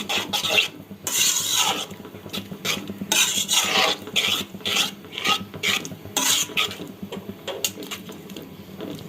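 Vermicelli being stirred in a pan for a sweet dry Bangladeshi jorda semai dish, producing a steady, close scraping and rasping of spoon against metal in uneven strokes, with no talking.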